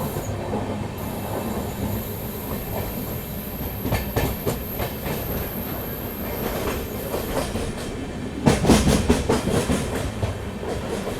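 Konark Express train passing close by on the tracks, a loud steady rumble of wagons with rhythmic wheel clatter and squeal, growing heavier and louder near the end.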